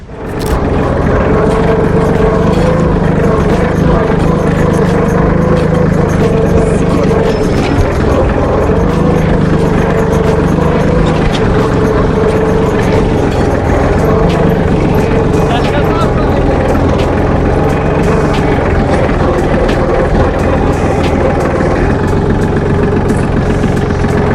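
A Solis 26+ compact tractor engine runs close by with a loud, steady diesel drone and a constant rumble that never lets up, and someone talks over it.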